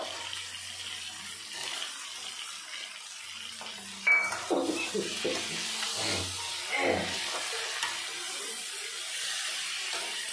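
Fried lentil dumplings (bori) being sautéed in a pan, with a soft continuous sizzle and intermittent stirring scrapes and knocks of a spatula, moderately close, with no talking.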